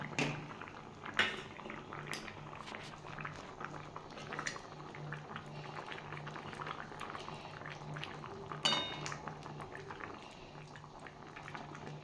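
A light fish broth of cut rohu-type fish pieces, red lentils, potato and brinjal bubbles steadily in a pot, a soft continuous simmer with a few sharp clinks of utensils.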